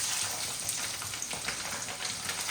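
Garlic dropped into hot oil for a homemade sardine pickle: a close, steady, crackling sizzle that fills the whole moment without pause.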